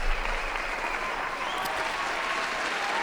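Steady applause from a studio audience on a talk show, a dense, even wash of clapping held for the whole span with no voices over it.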